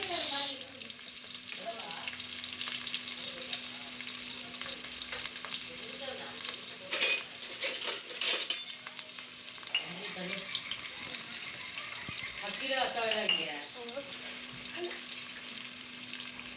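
Onion and curry leaves go into hot oil with popped mustard seeds and cumin, giving a soft, continuous sizzle. Occasional stirring scrapes and a few faint clatters are heard, and a brief trickle of water runs in the background.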